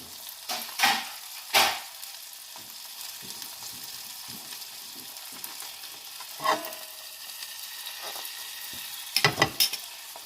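Seabass fillet pan frying in butter, a soft continuous sizzle broken by several louder scraping clatters of a utensil against the pan, with no voices.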